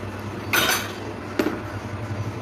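A spoon stirs payasam in a metal cooking pot, giving two brief, close metallic scrapes and clanks against the pot with a quiet pause between.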